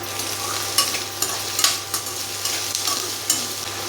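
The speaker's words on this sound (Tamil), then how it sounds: "வெங்காயம் நல்லா வதங்கணுங்க." Onions sizzle steadily in hot oil with curry leaves while a spoon stirs them, scraping and clacking against the pan every half second or so, close and fairly loud.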